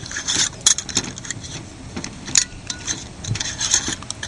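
Glass jar of angelica root tincture having its lid screwed on by hand, a close series of short scraping, rasping twists and small clinks in an uneven rhythm, with no talk.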